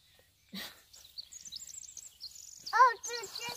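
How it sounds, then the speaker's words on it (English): Birds call on a forest trail, a string of high chirps and whistled notes, fairly faint, mixed with a few close voice-like sounds near the end. "Can you hear the birds?"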